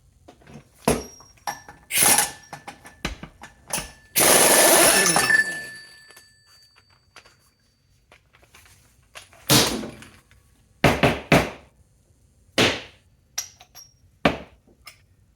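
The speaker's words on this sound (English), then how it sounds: "I'm going to use that with an impact gun to try to break this loose." An impact gun works a tight nut loose on a BMW R60/2 motorcycle engine, with one sustained loud rattling burst among sharp metallic clanks and taps from tools in a quiet workshop.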